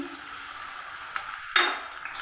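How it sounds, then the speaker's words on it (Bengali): Ground onion paste hits hot mustard oil in a wok with a sudden loud sizzle burst that slowly settles. Steady, close frying hiss runs before and after it. "এবার কড়াই দিয়েছি আমি আরেকটু তেল দিয়েছি সরিষার তেল এখানে একটা পেঁয়াজকে বেটে নিয়েছি"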